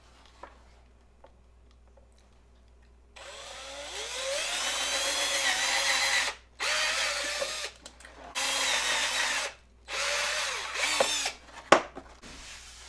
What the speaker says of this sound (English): And these holes I'm actually going to drill them out just a hair bit bigger.